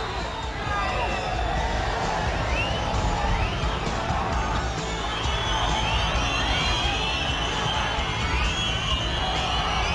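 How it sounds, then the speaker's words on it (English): A home football crowd screams and roars continuously as Shamrock Rovers hold on against Sligo in the dying moments, a dense, loud wall of shouting and whistling from a packed stadium with no single voice standing out. "The home crowd screaming for the final whistle"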